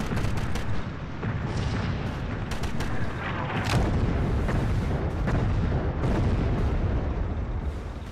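Bomb explosion in the World War II shooter Sniper Elite, set in fighting between Russians and Germans: a continuous heavy rumbling blast with dense crackling debris and distant booms, loud and sustained throughout without any voices.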